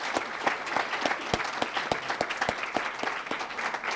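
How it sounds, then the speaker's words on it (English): Steady audience applause at a community college graduation ceremony, honoring graduating students inducted into the honor society; a dense, even wash of many hands clapping at moderate distance with no voices over it. "Please join me in giving these students a round of applause for their hard work and dedication"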